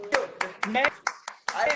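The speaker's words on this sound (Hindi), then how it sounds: "मैं तेरे फॉलोअर्स के लिए ताली बजाता हूँ मैं" Several sharp hand claps arrive in an uneven run, mixed in with loud, close speech from someone talking over them.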